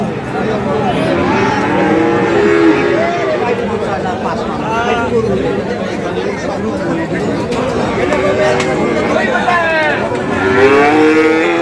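Several Sahiwal bulls moo repeatedly, close and loud, over a steady background of crowd chatter and bustle at the busy Ambari livestock market.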